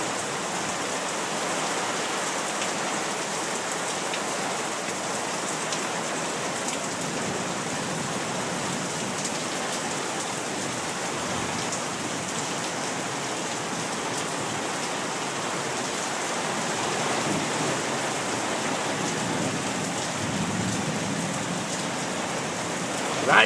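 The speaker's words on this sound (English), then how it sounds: "It's raining in Las Vegas." Steady rain falls in Las Vegas, a dense, even hiss of drops on surfaces that holds constant for the whole stretch, with no talking.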